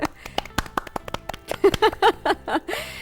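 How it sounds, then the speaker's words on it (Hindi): A studio audience on a Pakistani television talk show gives a few sharp, separate claps early on, then a voice talks over the last part. "तालियां बजा दें फिर"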